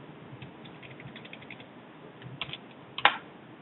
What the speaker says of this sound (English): I just go in here and type it.